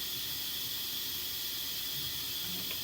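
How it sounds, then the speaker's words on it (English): A steady, even hiss of steam escapes an Instant Pot pressure cooker holding beef stew, continuous and fairly close with no voices. "I don't want to open it until I hear no more steam."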